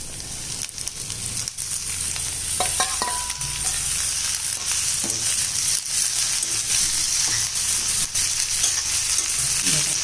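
Chopped green tomatoes sautéing with onions in a pan for green tomato kootu, a constant loud sizzle of frying with occasional stirring scrapes and clicks, close and continuous.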